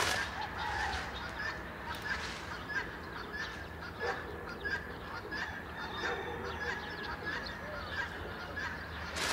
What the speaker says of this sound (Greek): Αυτά είναι τα πουλιά του Παπάγου.